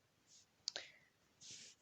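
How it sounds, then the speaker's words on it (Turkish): A mouse click on a pen icon during a YouTube channel setup on a computer: one sharp, quiet click, surrounded by faint breathy noises and soft rustles in a quiet room. "Buraya yazmak için şu kaleme tıklıyorsunuz."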